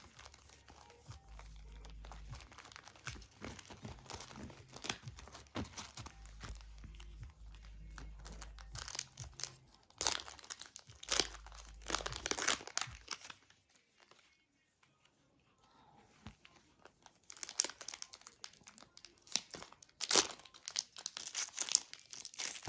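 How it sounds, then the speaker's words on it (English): Close, dry crinkling and papery rustling of trading cards being handled and shuffled in bursts with short pauses, a brief quiet gap midway, no speech. "Maybe I should give these a bit of a shuffle."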